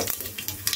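Panch phoron spices hit hot oil while a lau and chickpea-dal vegetable dish cooks, giving a brief, close, steady crackling sizzle with no voice over it.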